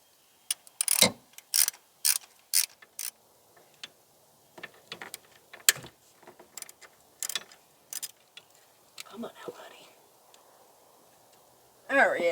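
A ratchet tightens bolts on a car in short separate bursts of quick clicking, some louder and some softer, with pauses between strokes.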